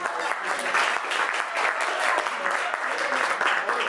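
A round of applause from guests at a Stirling Club business networking anniversary gathering at Gordon Biersch, steady dense clapping throughout with voices mixed in.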